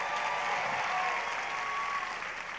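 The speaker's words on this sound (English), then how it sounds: "Another loud of applause for the Chancellor." Applause from a commencement ceremony crowd for the Chancellor at USIU-Africa, a dense, even roar of many hands clapping that stays steady and slightly distant, thinning a little at the end.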